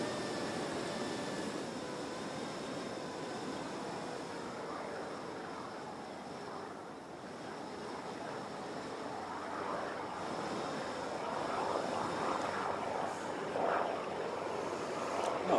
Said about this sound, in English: I might just go and watch this little general aviation.